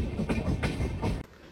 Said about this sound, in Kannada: ಈಗ ನಮ್ಮ ಟ್ರೈನು ಮಡ್ಗಾಂವ್ ರೈಲ್ವೆ ಸ್ಟೇಷನ್ಗೆ ರೀಚ್ ಆಗ್ತಾ ಇದೆ